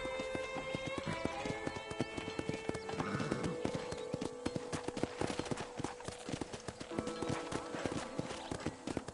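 Rapid, continuous clip-clop of horse hooves at a ranch corral in Red Dead Redemption video game, steady rhythm, joined by a brief whinny, over a bright, busy synthetic backdrop.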